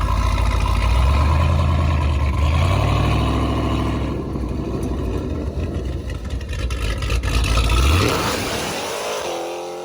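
A 1,000-horsepower Dodge Hellcat launching, its engine loud and close as the revs climb and roar hard before cutting off sharply near the end.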